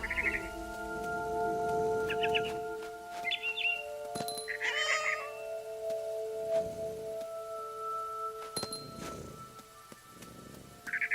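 A cat meows several times in the video game What Remains of Edith Finch, short clear calls spaced across steady ambient game music and tones, with no one talking.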